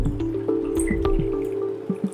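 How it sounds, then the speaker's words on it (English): Warm water for activating yeast trickles and drips into a bowl, a close, soft pouring with scattered splashy drips over about two seconds, no talking. "So I've taken 1 cup of warm water. I'm going to pour it into a bowl."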